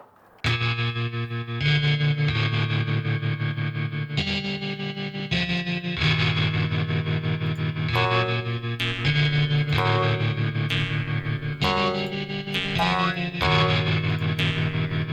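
Twangy electronic music with a bouncy, western hoedown feel, steady bass pulses and bright synth lines, loud and continuous.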